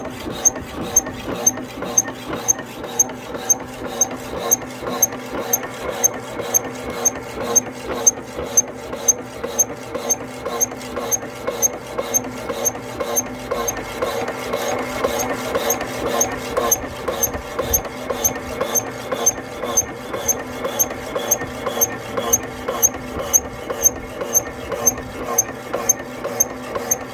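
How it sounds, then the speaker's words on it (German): A Viebahn power hacksaw cuts through metal in a steady, fast rhythmic back-and-forth, each stroke giving a loud rasping scrape that repeats evenly throughout, close and alone with no talk. "Für eine Bügelsäge finde ich, sägt die recht schnell."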